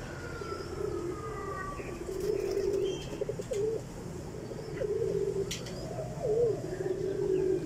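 Pigeons kept by a breeder coo repeatedly, a run of low throaty warbling calls in close succession over a steady background hum, with a faint higher sound drifting in early on.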